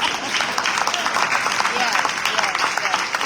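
Guests at a legislative breakfast during a gala weekend clap for the legislators, scattered sharp handclaps rising and falling in uneven bursts while voices carry over the applause.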